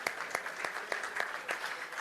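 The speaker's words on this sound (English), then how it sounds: "Please give him a round of applause as he walks to the stage." Clapping from an audience at a live discussion event on India in world affairs, a steady crowd applause with individual claps standing out, moderately distant and even throughout.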